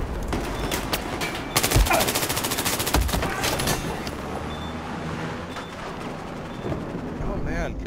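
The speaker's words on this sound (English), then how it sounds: "Oh man, killed by the nail gun." Rapid bursts of nail gun fire in the Battlefield 4 video game, loud and close, with a dense cluster of repeated shots early on, then continuing rattling gunfire and game noise.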